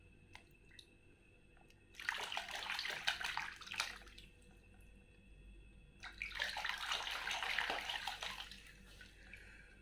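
Water from a tap runs over an animal toy being washed in two separate bursts, each a few seconds long, as a steady close splashing stream with quiet gaps between them.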